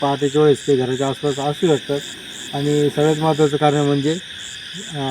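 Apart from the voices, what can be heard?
frogs croaking at night in wet grass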